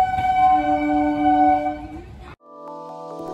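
A train pulls away from Prinsep Ghat station in Kolkata, its loud sustained horn holding steady for about two seconds and then cutting off, followed by quieter, lower horn tones and rail rumble.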